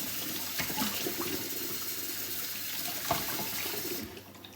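Cold tap water runs steadily into a sink over a bowl of freshly boiled eggs and potatoes, a continuous close splashing stream that drops away near the end.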